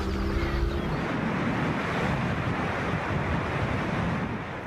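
Torrents of water rush over the Elbe weir at Geesthacht, south of Hamburg, a dense, continuous roar heard close and loud with some wind buffeting and no voices.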